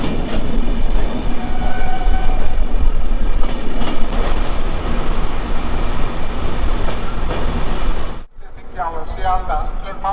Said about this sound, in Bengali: আমাদের ট্রেন অযোধ্যা জংশনে ঢুকে গেছে